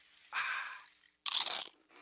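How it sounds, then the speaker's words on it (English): Two crisp, loud bites into a crunchy nacho chip, heard close up and alone, the second crunch sharper and brighter than the first, with a short silence between them. "It's the crisp crunch of that first nacho chip."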